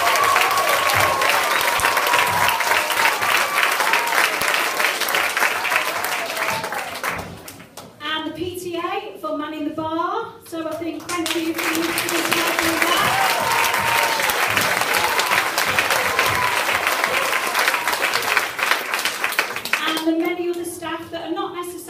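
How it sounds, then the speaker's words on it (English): A school summer music concert audience claps for a teacher, loud sustained applause from a packed hall that breaks briefly as a voice speaks, then resumes strongly before another short spoken pause near the end. "So I think just one more clap for Mrs."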